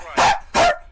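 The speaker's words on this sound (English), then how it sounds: "my dog keep goddamn barking" Two sharp, loud dog barks about half a second apart, close by, each short and punchy with nothing in between.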